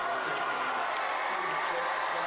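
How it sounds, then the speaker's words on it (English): A Friday-night high school football crowd at Glacier Peak against Kentwood keeps up a steady, distant roar of cheering from both sides of the field, a continuous wash of voices with no single sounds standing out. "We hear the crowd from both sides."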